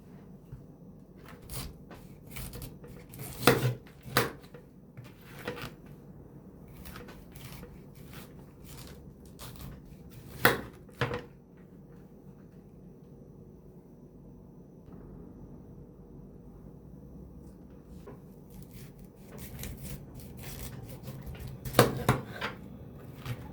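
A knife cuts a cauliflower into thick slabs for oven roasting, making scattered sharp clicks and thuds on a board with quiet pauses between strokes.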